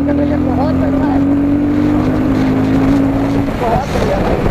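Royal Enfield Guerrilla 450 motorcycle pulling hard in fourth gear, a loud steady engine drone with a sustained tone and heavy wind rush, close to the rider and running alone without talk.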